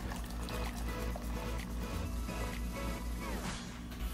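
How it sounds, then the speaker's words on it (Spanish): Water poured into a papaya, orange and lime agua fresca, a steady soft liquid trickle and splash under a low background hum, continuous and moderately faint. "Agregamos más agua."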